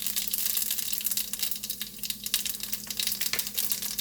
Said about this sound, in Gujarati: અડધી ચમચી જીરું નાખીશું